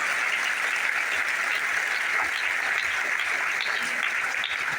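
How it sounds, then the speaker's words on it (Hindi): An audience at a business plan seminar claps in a dense, unbroken roar of applause, loud and even from start to finish with no pauses. "कि तालियां बजाइए फिर"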